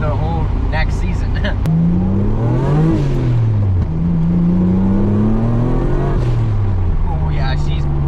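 A car on the street revving and sputtering with misfires after a transmission swap: a loud engine rising and falling in pitch with rough, uneven bursts, heard up close while people talk.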